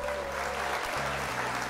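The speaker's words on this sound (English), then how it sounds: "I'll give a round of applause for that." A round of applause, steady clapping from a small group, moderately loud and continuous, with a low electronic drone or music underneath and no talking.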